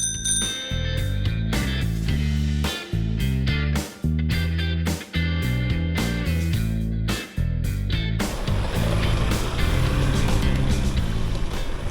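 Motorcycle ridden along a mountain road in the Puna highlands, its engine rising and falling through gear changes with brief drops between shifts, ending in rushing wind noise.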